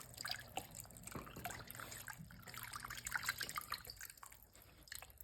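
Chicken broth is poured slowly into a pan, making a soft, quiet trickle and splash with small drips that rise and fall over a few seconds, with no talk.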